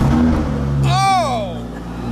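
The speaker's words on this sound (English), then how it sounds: "We get to sit in a Lamborghini." A Lamborghini engine revs once, rising to a loud peak and sliding back down over about a second, heard close above a low rumble and background voices.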